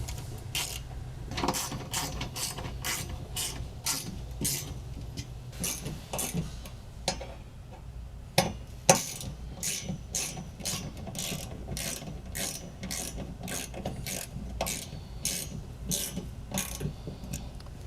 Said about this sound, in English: These front screws I'll go ahead and tighten up all the way,